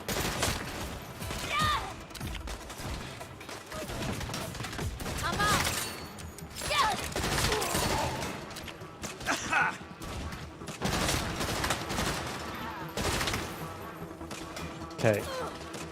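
Enemy gunfire in the Saints Row video game, dense crackling shots and bursts spread across the whole stretch over busy game noise and music, with occasional louder bangs and a sharp hit near the end, while a voice talks at times.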